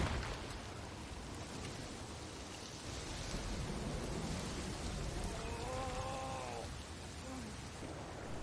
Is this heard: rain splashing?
yes